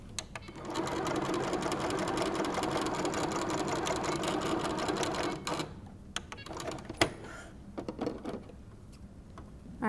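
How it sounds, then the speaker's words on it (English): A sewing machine stitches fabric pieces for a fall wall hanging, running in a fast steady whir for several seconds, then stopping into a few scattered clicks and handling noises. "I'm going to add some of the embellishments and sew a couple of the pieces together"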